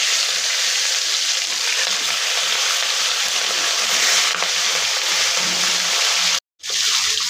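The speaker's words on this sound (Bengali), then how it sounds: "এই মাছটা ভালো একটু মশমশো করে ভেজে নিই" Fish frying in a pan of hot oil makes a steady, loud, broadband sizzle that continues throughout with no talk, broken only by a brief drop to near silence near the end.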